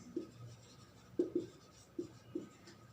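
Chalk or marker writing on a board during a chemistry lecture on coordination compounds, a few short soft scratching strokes in quick bursts, faint and close, with no talk.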